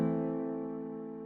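A single sustained chord on a nylon-string guitar plugin, struck once with a bright attack and left ringing as it slowly fades over about a second, heard alone with no talk.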